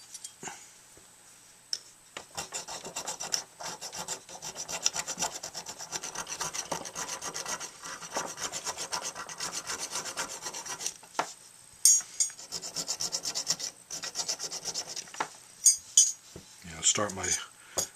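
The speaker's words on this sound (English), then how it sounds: "Start with these coarser files, and I'll gradually work my way to finer ones." Hand files rasp against a tenor saxophone mouthpiece in steady, close back-and-forth strokes, with brief pauses between runs and a few light clinks of tools near the end.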